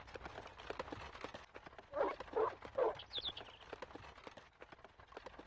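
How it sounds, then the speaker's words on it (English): Horse hooves clip-clopping in the online game Age of Cignare Online, a quiet run of light, steady hoof beats with a few louder, nearer steps in the middle, set against faint background sound. "So we're going to see all the new horses."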